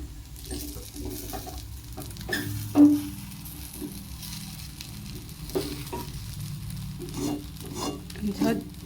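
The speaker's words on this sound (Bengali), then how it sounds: "আমি একটু নাড়িয়ে দেব" Basanti pulao rice sizzles softly in a pan as it is stirred, with scraping strokes and a few sharper knocks of the utensil against the metal over a low frying hiss.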